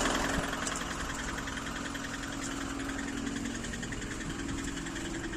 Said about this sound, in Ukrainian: Двигун працює, все нормально.